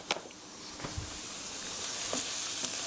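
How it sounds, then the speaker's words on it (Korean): Flour toasting in a pan for fettuccine Alfredo sauce gives off a steady, soft sizzle, with a few sharper scrapes and taps of stirring scattered through it. The sound is close, moderately quiet, and no one speaks. "이렇게 밀가루가 노릇노릇하게 될 때까지 2미닛 2분 정도 볶아주세요"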